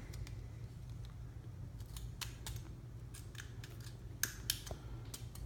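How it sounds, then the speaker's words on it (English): Scissors snip away excess from a fishing rod reel seat, a series of sharp, close clicks and cuts spaced irregularly, growing slightly louder near the end, over a steady low hum. "And then I'll go in with the ribs and trim them down. Trim the little excess there."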